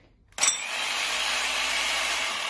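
Old breaker drill from the late 1970s or early 1980s switching on in chisel mode, giving a loud, steady rattling hammer-action roar after a brief silence and sharp start, continuing without pause.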